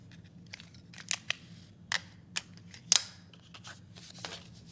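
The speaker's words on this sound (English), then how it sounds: "So I'm going to take a piece of tape." Tape torn off for a snowman craft, heard as a run of short, sharp crackling snips and rips at close range, separated by quiet gaps, with no voices.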